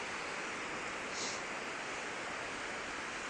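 A tidal surge of waves along a shore makes a steady, dense wash of surf noise, broad and continuous without breaks, and no voices.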